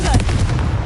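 Confringo spell blast in Hogwarts Legacy, a short loud booming burst heard up close, dense and rumbling for under a second with no voice over it.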